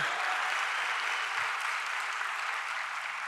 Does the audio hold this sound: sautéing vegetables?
no